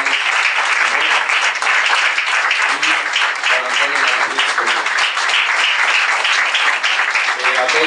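Audience at a Spanish-Mexican library science seminar applauds the speakers, a dense, sustained round of clapping from a full room, with voices faintly mixed in underneath.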